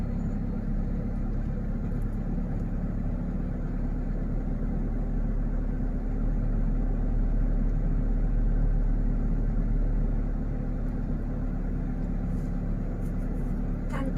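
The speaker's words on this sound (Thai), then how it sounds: "เติมคันเร่งไปได้เรื่อยๆเลยครับ" A manual-transmission pickup truck's engine holds a steady, deep rumble for the whole stretch, swelling only slightly in level, with no speech over it.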